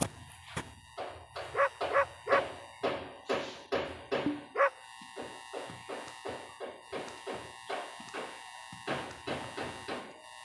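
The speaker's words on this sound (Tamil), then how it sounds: "நாய் வேறு குழைக்குது" A dog in a horror video game barks and whines in a long run of rhythmic, evenly spaced yelps, louder at first and then steady and close.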